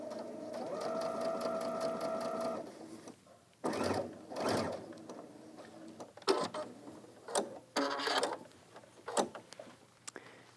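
Domestic sewing machine running steadily while stitching down a pant fold line for a slim pant, a continuous whir for a few seconds, then short bursts and clicks of stitching with pauses between.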